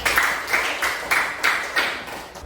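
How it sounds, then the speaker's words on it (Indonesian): Students in a classroom give rhythmic clapping for a discussion group, a series of evenly spaced loud claps repeating about every third of a second, close and without talk. "Kasih tepuk tangan untuk kelompok 3."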